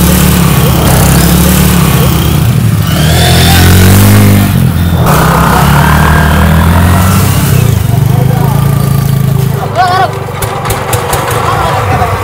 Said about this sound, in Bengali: একে একে গাড়িগুলো নামছে।